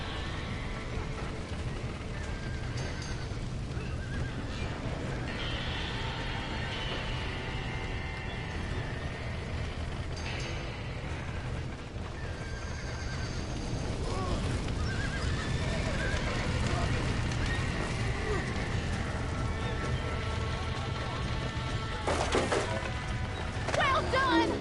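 Horses neigh and whinny in a Red Dead Redemption 2 game scene, with hooves clip-clopping and galloping under steady, busy ambience, and voices speak over the action.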